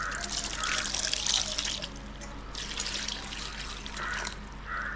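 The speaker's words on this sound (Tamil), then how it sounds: "இப்போது இந்த கறி நனைகிற அளவு மட்டத்துக்கு நம்ம வந்து பார்த்திங்கன்னா தண்ணி ஊற்றிடலாம்." Water poured into a pressure cooker holding beef for beef sukka, a steady close trickling and splashing that swells and eases over a few seconds, with no talking.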